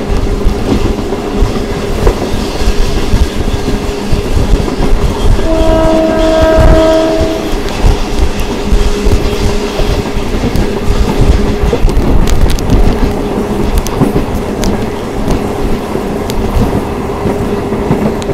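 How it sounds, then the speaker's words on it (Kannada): The Golden Chariot luxury train passes loud and close with a heavy rumbling clatter of wagons. A sustained horn blast sounds midway through. "ಲಕ್ಸುರಿಯಸ್ ಟ್ರೈನ್ ನೋಡಿ, ಗೋಲ್ಡನ್ ಚಾರಿಯಟ್."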